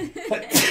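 A single sharp sneeze bursts out near the end of a short stretch of conversation, loud and close, following a brief spoken reply.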